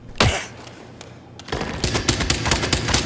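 Gunshots fired in the Hitman VR video game: one sharp close shot early, then after a pause a rapid run of repeated loud reports packed together to the end.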